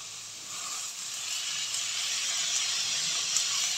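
French beans hit a hot pan for a mixed-vegetable dish, setting off a continuous, even hiss of sizzling oil that holds steady and close throughout, with no talking.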